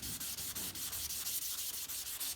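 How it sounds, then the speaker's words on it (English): Sandpaper rubs by hand over primer on a pickup truck body, a close, steady rasping in quick, even strokes with brief regular pauses, no voices. "So you can hear the sandpaper."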